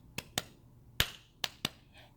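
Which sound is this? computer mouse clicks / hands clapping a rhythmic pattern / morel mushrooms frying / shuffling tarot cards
hands clapping a rhythmic pattern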